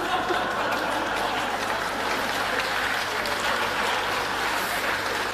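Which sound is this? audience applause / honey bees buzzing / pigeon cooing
audience applause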